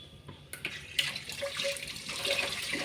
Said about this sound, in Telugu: బాగా వాటర్ తోటి చాలాసార్లు కడగాలి